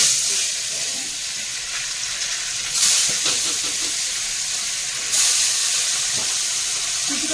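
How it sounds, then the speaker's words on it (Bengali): Tilapia fish coated in salt and turmeric fry in hot oil, giving a steady, loud close sizzle with brief surges of crackle as pieces shift in the pan. "দুটো মাছ ভাজা দিয়ে খাবো বলে মাছগুলো ভেজে"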